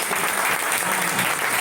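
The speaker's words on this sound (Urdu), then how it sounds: "اوپر آپ ہاتھ کھڑا کر کے ایسے ذرا تالیاں بجا کر" Church congregation at a Palm Sunday prayer meeting clapping their hands together, a dense, loud, continuous wash of applause from many people close by.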